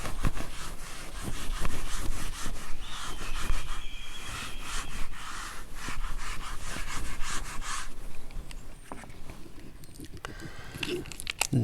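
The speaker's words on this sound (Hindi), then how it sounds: "ये मैं रब करता हूँ." A board eraser rubs chalk or marker writing off a board during a calculus lecture, giving a steady scraping, brushing sound of repeated strokes for several seconds, fairly close, then fading into quieter room noise.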